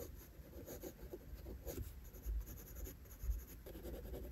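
A pencil drawing lightly on paper, shading a nose with a soft, pale tone, gives a faint, continuous scratchy rub with small strokes and brief pauses, heard up close with no talk.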